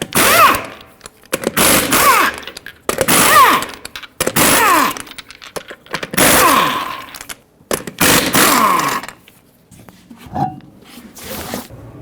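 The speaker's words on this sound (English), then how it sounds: "use a 21mm socket, remove all 6 lug nuts, and then pull the wheel off." Impact wrench spinning the lug nuts off a 2015-2020 Ford F-150 rear wheel with a 21mm socket, several loud close rattling bursts in a row separated by short pauses and metallic clinks.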